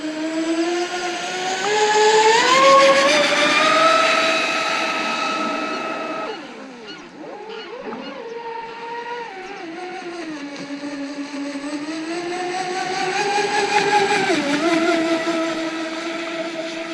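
A custom carbon-hulled RC speedboat on a 6S battery whines with a high electric motor pitch that rises and falls as it accelerates, eases off and surges again, loud and continuous.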